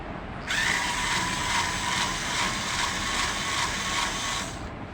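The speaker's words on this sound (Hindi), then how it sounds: "इसके स्क्रू को हम डिसमेंटल करते हैं" An electric screwdriver whirs steadily for several seconds, removing screws from the casing of a dead UPS unit on a repair bench, with a close, even motor drone.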